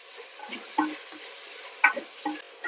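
Drumstick leaves being stirred into sambar in a pan, with a few soft scraping strokes and light clinks spread over a quiet background, nearby and fairly faint.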